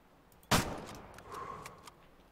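A single loud, close rifle shot from a .300 Win Mag fired while hunting, with a sharp crack that decays into a rolling echo over about a second and a half.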